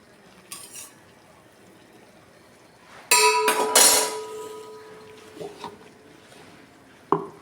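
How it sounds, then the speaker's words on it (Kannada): Boiled cauliflower stirred into green masala paste in a pan: sharp metallic clinks and a clattering burst of spoon against the pan, then sparser scrapes and a final knock. "ಇದಕ್ಕೆ ಹದ ಬೇಯಿಸಿಟ್ಟಂತಹ ಕಾಲಿಫ್ಲವರನ್ನು ಹಾಕುವ. ಇದನ್ನು ಚಂದ ಮಾಡಿ ಮಿಕ್ಸ್ ಮಾಡಿಕೊಳ್ಳುವ."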